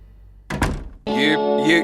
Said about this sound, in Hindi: ये दरवाजा क्यों बंद कर रही हो तुम?